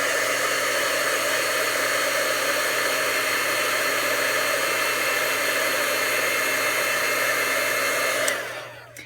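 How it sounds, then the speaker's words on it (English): A handheld craft heat tool blows hot air to dry ink on a split card, a loud, close, steady whooshing hum that runs without a break before switching off abruptly near the end. "let me hit it with my heat tool real quick"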